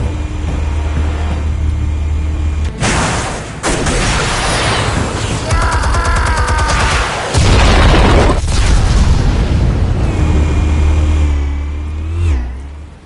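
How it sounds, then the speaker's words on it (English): Explosives detonating in Batman: The Telltale Series, heavy booming bursts with rumbling low-end blasts and crackling debris across the stretch, loud and close, no talking. "Explosives armed. Fire when ready."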